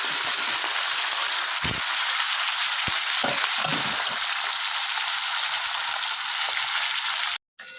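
Fish rubbed with turmeric and salt hits hot oil in a frying pan for a Bengali fish curry, giving a loud, steady sizzle that runs unbroken for several seconds with a few soft clinks, then cuts out abruptly near the end.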